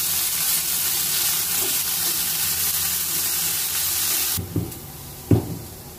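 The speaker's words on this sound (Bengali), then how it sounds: "নারকেল আর শাক ভালো করে মিশিয়ে নিচ্ছি।" Jute greens and grated coconut are stirred in a pan over a loud, steady frying sizzle, which cuts out near the end, leaving a few spatula knocks against the pan.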